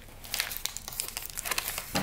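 A vacuum-sealed plastic envelope from an AliExpress diamond painting kit is worked open close up, with continuous loud crinkling and crackling of the plastic and a few sharper rustles.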